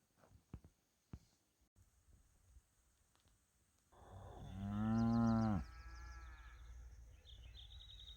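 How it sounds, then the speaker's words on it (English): A cow lets out one long, loud, close moo partway through, preceded by a few faint clicks and followed by low background noise, out on the Colorado Trail where hundreds of cattle graze. "There are hundreds of cows in this part of the trail."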